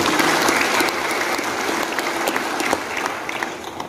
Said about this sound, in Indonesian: Sekali lagi aplaus untuk semuanya.